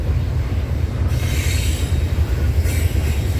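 CN freight train at night with an Elgin Joliet & Eastern heritage unit trailing, railcars rolling close by with a loud steady rumble, wheel clatter and bursts of high metallic squeal.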